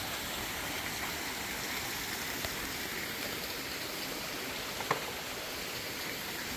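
Water flowing over a small mill dam on a cave river in a valley, heard as a steady, fairly faint broadband rush that stays even throughout with no talking.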